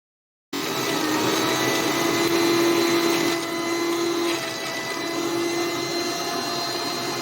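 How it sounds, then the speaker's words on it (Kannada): Electric mixer grinder running continuously, finely grinding vegetables and spices for saagu, a loud steady whirring drone that starts abruptly and holds with a slight dip in pitch midway, no voices. "ಚೆನ್ನಾಗಿ ನುಣ್ಣಗೆ ರುಬ್ಕೊಳ್ಳೋಣ."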